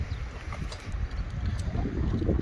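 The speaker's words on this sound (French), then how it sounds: "Il y a un peu de vent quand même aujourd'hui hein" Steady wind buffeting the microphone on the Costa Brava coast, a constant low rumbling roar with gusty swells, loud and close, with no voices.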